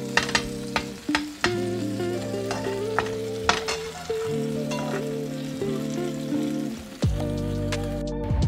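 Birria taco meat sizzles and fries in a pan, with steady crackling broken by scraping stir strokes at a regular pace and some clear metallic clinks from the pan. No one speaks.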